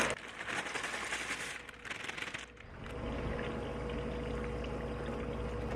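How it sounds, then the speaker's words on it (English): A full 16-ounce bag of gluten-free elbow macaroni tipped into a pot, giving a dense, close rattling pour for a couple of seconds that cuts off sharply, leaving a steady low hiss behind. "so I will just pour the whole bag in."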